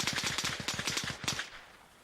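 Enemy machine-gun fire in the Arma Reforger video game: a fast, steady burst of about a dozen shots at moderate distance, fading out into quiet.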